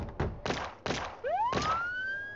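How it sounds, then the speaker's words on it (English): Police sirens in the mobile game The Simpsons Tapped Out, a few sharp thumps like gunshots followed by a rising electronic siren wail, clear and without talk. "there's kind of gunshots and police sirens."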